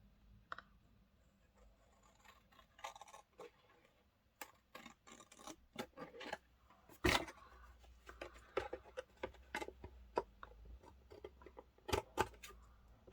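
Scissors trim card overhang while making a birthday card, a quiet close-up series of irregular small snips and clicks spread across the stretch, with soft handling noises between them.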